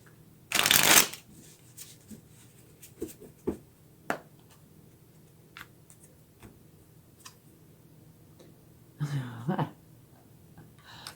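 Tarot cards are shuffled in two bursts: a loud, dense riffle near the start and a shorter one near the end, with soft taps and small handling noises between them in a quiet room.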